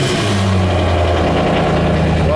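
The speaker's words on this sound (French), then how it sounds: "Pour ce qui est du démarrage de cette voiture, alors sur cette voiture, nous sommes sur un V8 atmosphérique de 517 chevaux." Naturally aspirated 517 hp V8 car with IPE exhaust running at a loud, close, deep steady idle with a slight rise in pitch near the end, a voice faintly audible alongside.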